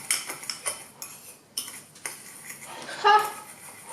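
Homemade vanilla sugar is stirred in a bowl, spoon scraping and clinking against the sides in uneven strokes, close and fairly clear, with one brighter clink near the end.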